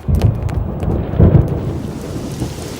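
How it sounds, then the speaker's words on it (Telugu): A film thunderstorm effect: two heavy, close rumbles of thunder roll out over a steady wash of falling rain, then fade into the continuing downpour. "ఫోన్ ఎట్టగానే ఉరుములు మెరుపులు వచ్చేస్తున్నాయంటే వెంటనే వర్షం వచ్చేద్ది"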